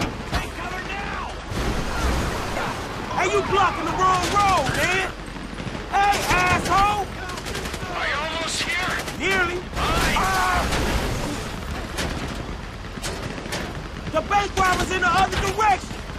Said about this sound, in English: Shooting our way out of here!